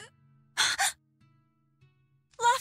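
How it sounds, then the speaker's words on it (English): Gasps from a character in the video game Tales of Berseria: two sharp breathy intakes close together, a stretch of near silence, then another gasp, all close and fairly loud. "Gasp."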